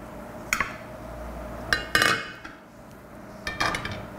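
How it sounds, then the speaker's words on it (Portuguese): A metal cooking pot is handled in a home kitchen, giving a few sharp clanks and clinks in short bursts with quiet pauses between them, close and fairly loud. "Eu vou pegar a panela"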